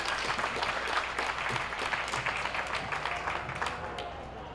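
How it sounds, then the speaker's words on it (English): At the Middlesex County Fair opening ceremonies, an outdoor crowd gives a round of applause for local farmers, a soft, scattered clapping that carries on evenly and fades slightly at the end. "how about a big round of applause for all of our farmers?"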